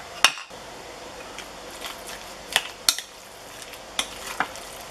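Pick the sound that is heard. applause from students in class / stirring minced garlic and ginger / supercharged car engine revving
stirring minced garlic and ginger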